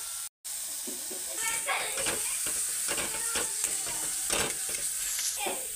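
Cauliflower leaves fry in a pan with a steady, close sizzle, while a spatula stirs and scrapes through them in repeated strokes over the hiss.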